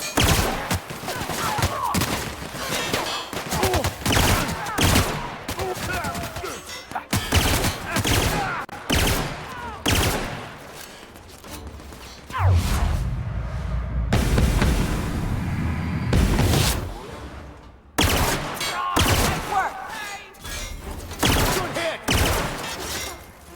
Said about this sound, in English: I do love this gun, yes I do. Hear that?